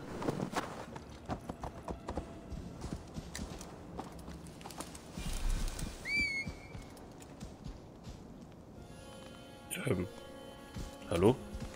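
Horse hoofbeats in the video game Assassin's Creed Valhalla clip-clopping on the ground in an uneven rhythm, with a bright chime and a speaking voice appearing over them later.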